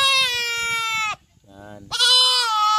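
A goat bleats loudly during castration with a rubber band on a farm: two long, wavering, close cries with a short lower-pitched call between them.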